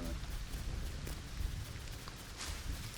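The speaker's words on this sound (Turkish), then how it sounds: "Yağmurlu bir yaz günü." Soft, steady rain patters across a surface in a video game, a quiet continuous hiss with scattered drops and no talking.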